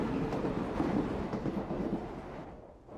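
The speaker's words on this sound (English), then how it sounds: "And after that cutscene, here comes the train." A train arriving in the video game Indiana Jones and the Great Circle, a steady rumbling roar of rolling wagons that holds loud and fades slightly toward the end, with no voices over it.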